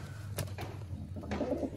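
Low, soft cooing from a Madras pigeon, a fancy breed, comes in short repeated phrases over a constant low hum.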